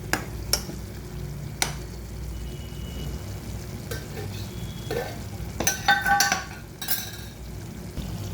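Bitter gourd tamarind curry sizzles steadily in a pan with chili powder while a spoon stirs and clinks against the metal a few times.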